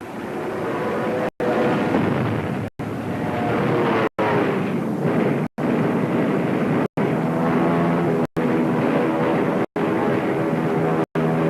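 Droning World War II-era aircraft engines roar continuously with a low rumble, broken by brief sharp cuts; a dense din of fighter planes in an air battle overhead, over the sea.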